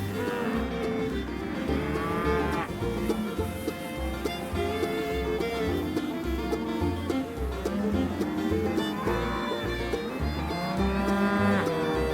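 Cattle lowing during a horseback cattle drive, steady calls repeating over a dense, continuous bed of sound with a strong rhythmic low pulse running throughout.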